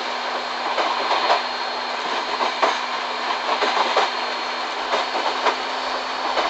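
Inside a Velaro high-speed train slowing from top speed in a tunnel, with a loud steady rumble, a constant hum and recurring rhythmic clatter from the rails.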